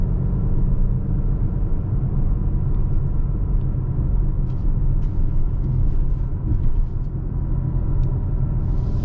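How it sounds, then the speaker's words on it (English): A 2021 Mercedes-AMG GLA 35 SUV in Sport Plus pulls uphill at night, its engine a steady, loud low rumble that holds for the whole stretch from inside the cabin, without voices. "I'm gonna switch it to Sport Plus, give it more gas and power going up this hill."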